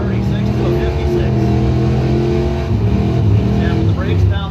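71 Nova and 82 Firebird drag race cars running side by side, engines roaring at a distance beneath a track announcer's commentary.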